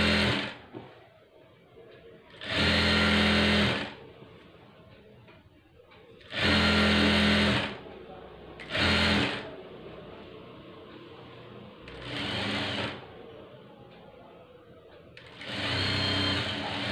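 Sewing machine stitching the square neckline of a plain blouse, running in five or six loud, close whirring bursts of one to two seconds each, separated by pauses while the fabric is turned.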